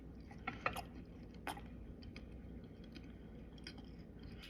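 Close, quiet chewing of sweet, slightly tart oat bites, with soft moist crunches and squishy bites repeating irregularly over a low steady background hum.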